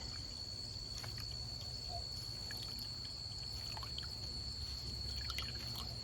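Elderberry juice trickles and drips faintly as cheesecloth is squeezed over a pot, soft irregular droplets against a quiet background with a steady high insect-like whine.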